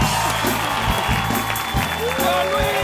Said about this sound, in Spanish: Un fuerte aplauso para recibir a los grandes Luis de Alba y Teo González.